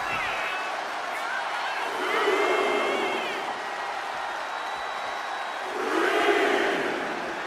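Arena crowd in a WWE 2K25 wrestling match roaring and cheering, swelling loudly twice with whoops and shouts over a steady background din.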